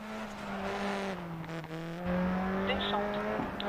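A Mini rally car on a Monte-Carlo hill climb, pitched into a handbrake turn, its engine droning in steady harmonic tones that dip and rise, with a voice speaking over it.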